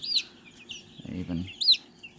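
A young all-black chicken with black feet and head gives short, soft clucks and chirpy peeps, close and fairly quiet, with a brief low murmur of a human voice in between.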